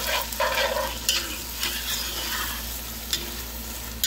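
A spoon stirs a small can of sauce into a sizzling pot of chicken, sausage and tasso sauce piquante, giving a steady close-up frying hiss with scraping stir strokes and no talk.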